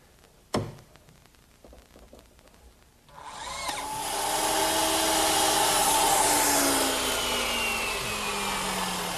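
A power drill drives screws to fasten a half-inch plywood bottom into a blanket chest. A sharp knock and some light handling come first, then a loud sustained whir that runs steadily for several seconds, close by.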